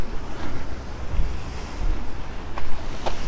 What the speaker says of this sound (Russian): это так волна фигачит